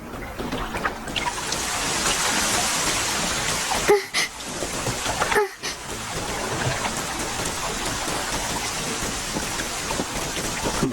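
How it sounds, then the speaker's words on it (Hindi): Steady heavy rain falls in an animated Doraemon scene, a dense continuous hiss with a couple of brief cuts to silence midway. "बारिश शुरू हो चुकी है।"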